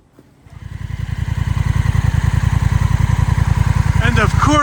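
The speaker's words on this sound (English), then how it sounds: "Riding these bikes sure beats working." A motorcycle engine starts up and runs steadily with a rapid, even low thumping pulse, loud and close, with a brief higher sound near the end.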